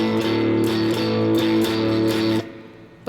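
Electric rhythm guitar chugging a blues shuffle pattern in A, a steady repeated two-note boogie figure that rings for over two seconds and then stops abruptly.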